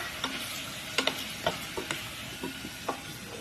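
Tomatoes frying in a pan, cooked for rice kabli, give a soft sizzle under a run of sharp utensil clicks and taps against the pan at an uneven pace, with no talk.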